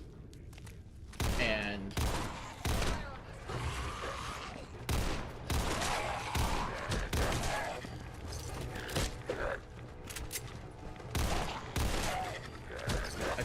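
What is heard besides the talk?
machine gun firing in Fallout 4 video game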